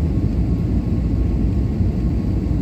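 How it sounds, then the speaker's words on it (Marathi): Airplane landing on the runway at Chandigarh Airport, a steady loud low roar and rumble of engines and rolling wheels heard from inside the cabin, continuous throughout with no voices. "आणि अशा पद्धतीने आमचे विमान धावपट्टीवर हळूहळू उतरलेले आहे."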